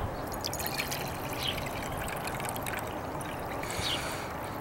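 Water is poured out for a crow on a chilly morning, a soft continuous trickle and splash with faint drips, steady and fairly quiet throughout with no talking.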